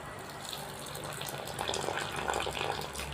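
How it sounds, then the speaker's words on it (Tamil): Steaming hot water is poured into rice flour for kozhukattai dough, a close, steady gushing stream that swells slightly in the second half before cutting off. "கொலக்கட்டைக்கு கொஞ்சம் சுடுதண்ணி ஊற்றிக்குவோம்"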